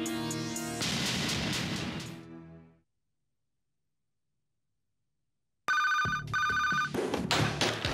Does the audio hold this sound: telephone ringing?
yes